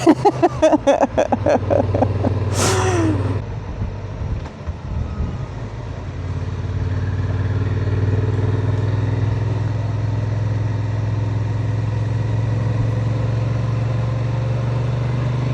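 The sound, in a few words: Honda Transalp motorcycle riding through a water ford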